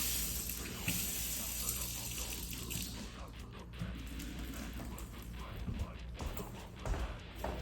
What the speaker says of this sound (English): Open the faucets in your apartment or house to release the pressure.